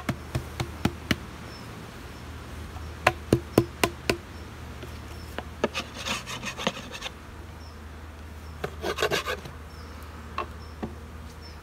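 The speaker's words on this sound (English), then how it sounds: "I was knocking the bees off of the roof. Off of the internal roof" Bees are knocked off the internal roof of a beehive, a series of sharp wooden knocks and taps, some in quick clusters, with scraping rubs between them over a steady low buzz of bees.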